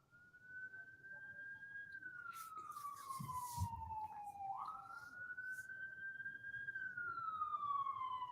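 Police siren passing through a city street, one long wailing tone sweeping slowly down and back up, moderately loud and drawing nearer, with a brief burst of traffic noise midway.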